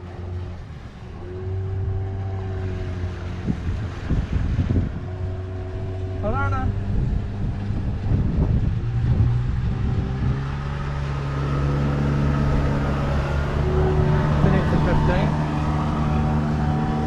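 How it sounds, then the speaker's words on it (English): A motorboat's engine drones steadily as it passes nearby a moored catamaran, a broad mid-loud hum that swells gradually over the clip, with a voice briefly speaking over it and other harbour noise in the background. "we'll just wait till this boat goes past because it's noisy"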